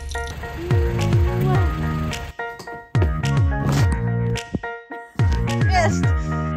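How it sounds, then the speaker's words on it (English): A drink is poured out onto the ground in an empty lot, splashing and gurgling in uneven bursts with brief pauses, close by, as people talk over it. "Pouring one out for you"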